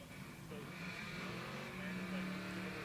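Honda Del Sol race car, J-swapped with a supercharger, passing at Pueblo Motorsports Park, a fairly quiet engine drone that rises and falls beneath a track announcer's talk.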